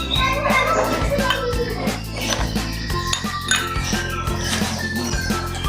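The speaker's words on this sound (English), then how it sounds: "and ice cubes into a glass." Ice cubes clink and knock into a glass over sweetened condensed milk and syrup, with repeated sharp glassy taps and rattles at close range, loud and uneven, with no voices.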